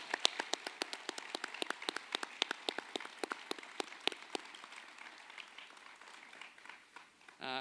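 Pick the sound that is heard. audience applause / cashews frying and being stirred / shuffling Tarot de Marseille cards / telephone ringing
audience applause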